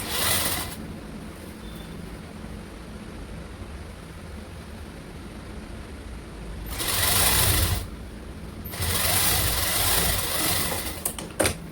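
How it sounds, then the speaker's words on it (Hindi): A sewing machine stitches along the edge of red blouse fabric, its steady motor whir running continuously and close, rising louder in two stretches near the end. "जिनको इंटरलॉक नहीं करना हो तो उसकी किनारे पे सिलाई मार दीजिएगा, फिर ये कपड़ा उधरेगा नहीं।"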